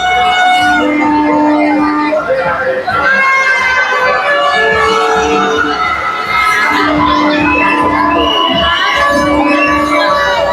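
A busy crowd fills the Vadodara kite market, with loud, close voices, children and shouting overlapping in a constant bustling din around the shops.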